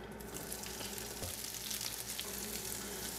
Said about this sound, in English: Drop the chicken, wait for the sizzle.